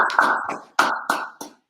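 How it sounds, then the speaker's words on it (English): A class clapping hands in a short burst, four or five sharp, loud claps in a rough rhythm with brief gaps between them. "So clap it up, clap it up."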